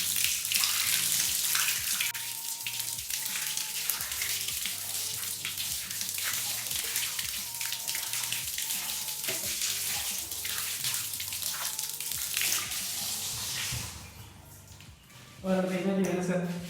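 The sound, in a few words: water jet rinsing a rough floor tile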